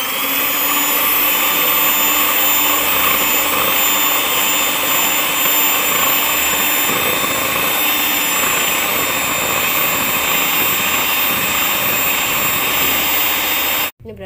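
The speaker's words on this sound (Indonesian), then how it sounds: "Kita mixer putih telurnya ya guys." An electric hand mixer whips egg whites for a pineapple layer sponge cake, a steady loud whirring drone that runs unbroken for the whole stretch before cutting off abruptly at the end.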